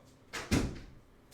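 A door is opened to let a dog in, making a short, soft clunk and rattle of the latch and panel, faint and close in a quiet room.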